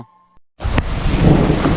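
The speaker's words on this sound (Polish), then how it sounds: "Nadchodzi burza." A heavy rumble of thunder from an approaching storm rolls in abruptly after a brief quiet moment, with a sharp crack and rain-like noise continuing close and loud.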